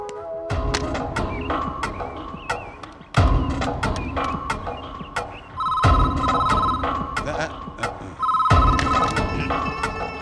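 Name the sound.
telephone ringing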